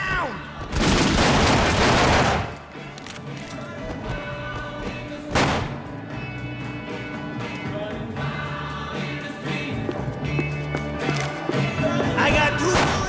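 Gunfire in a Max Payne 3 shootout: a loud, sustained burst of rapid shots near the start, a sharp single blast a few seconds later, then scattered smaller hits over a continuous game soundtrack.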